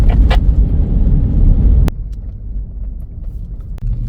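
An overland vehicle drives on a road towards Clanwilliam in South Africa. A steady low engine and road rumble runs throughout, heavier at first, with a couple of sharp clicks.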